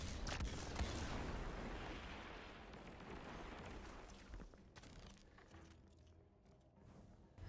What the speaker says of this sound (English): Here I decided to just use my rockets, might as well, just to show how it looks like when using rockets with Marksman dodge.